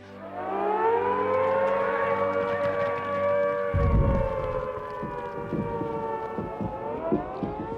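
A World War II British air raid siren wails in a long, sustained rising and falling tone, loud and steady, with some rumbling noise joining partway through.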